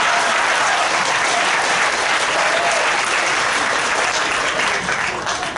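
Sustained applause fills a large room at a spring fundraising breakfast for a conservation trust, dense and steady throughout with no voices breaking through.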